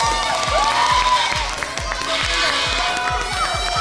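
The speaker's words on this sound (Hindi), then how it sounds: "तालियां" An audience at a children's game show claps and cheers loudly and continuously, with a rhythmic thumping beat and a voice over the crowd.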